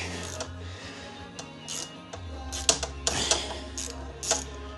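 A wrench breaks loose size 12 axle bolts on a bike, giving faint metallic clicks, ratcheting and scraping bursts close by over a low background hum, with no voices.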